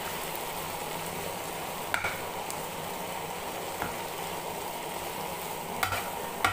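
Fresh coriander leaves stirred and frying in a kadai, giving a steady, dense sizzle with occasional faint spatula scrapes and taps, close and continuous without talk.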